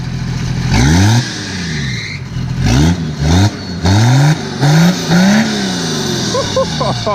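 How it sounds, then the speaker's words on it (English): The inline-six turbodiesel of a 1983 Volvo 760, set up to roll coal, revs hard in repeated rising bursts up close and loud. Excited voices come in between the pulls. "let's hear that beautiful inline six"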